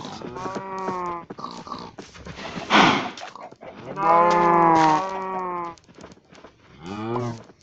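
Cattle moo in a run of long, drawn-out calls, several bellows in a row with short pauses between them, fairly close and clear.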